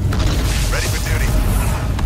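Artillery shelling in the Halo Wars 2 video game: dense low booming impacts and rumbling blasts over a loud, busy battle din, with a voice briefly heard.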